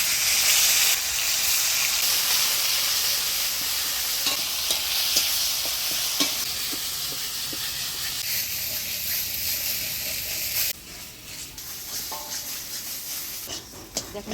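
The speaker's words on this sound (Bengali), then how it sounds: "এবার আমি তেলের মধ্যে ভাজে নিব।" Taro paste ground with green chili, garlic, black cumin and salt, frying in oil, with a loud steady sizzle and hiss that eases toward the end, with intermittent stirring clicks.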